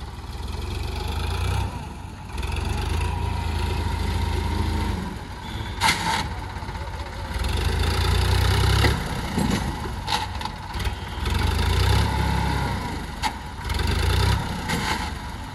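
Small Sonalika tractor engine idling up close on a farm, a steady low diesel rumble with periodic swells and slight revs, plus occasional clanks and knocks over the top.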